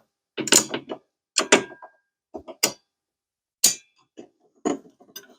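Sharp metallic clinks and short ratcheting clicks come from wrenches tightening the arbor nut on a Ryobi table saw blade, sounding in separate bursts with quiet gaps, close and alone.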